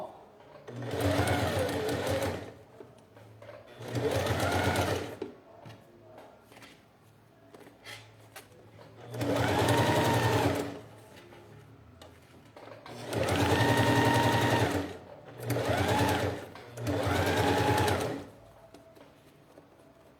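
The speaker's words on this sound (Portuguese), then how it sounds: "Sempre costurando com a mesma margem de um pé de máquina" A sewing machine stitches bias binding onto fabric in about six loud whirring bursts of a few seconds each, separated by quiet gaps where someone speaks softly.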